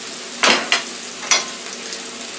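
Rib eye steak with peppers and onions sizzles on a grill, a close, steady hiss broken by three sharp spits and crackles early on, then settling into softer frying.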